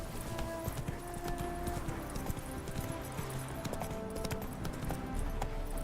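Roach, a horse in The Witcher 3, gallops in a steady, rapid clip-clop of hooves that runs throughout at moderate volume, with faint game ambience beneath.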